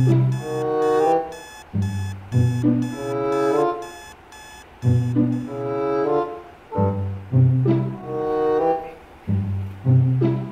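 An alarm clock rings in bursts of bright, repeated electronic beeps, pausing briefly between groups, loud and close in a quiet room.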